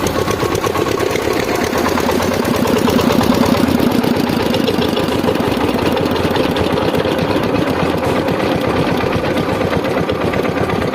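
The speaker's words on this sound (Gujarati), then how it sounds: "ચાલો મશીન આપણું સીધું બંધ" A machine's engine runs steadily with a continuous rough, pulsing drone at close range and even loudness throughout.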